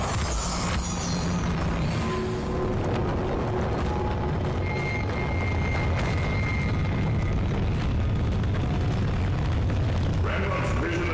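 The Incendio fire spell cast in Hogwarts Legacy, a loud sustained whooshing roar of flame with booming bursts layered over game effects, continuous throughout.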